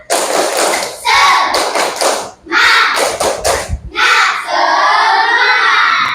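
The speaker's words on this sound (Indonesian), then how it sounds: "Tepuk semangat." Primary schoolchildren in a fifth-grade classroom perform the 'tepuk semangat' clapping chant, loud bursts of rhythmic clapping and thumping mixed with children's shouted chanting voices, separated by brief pauses.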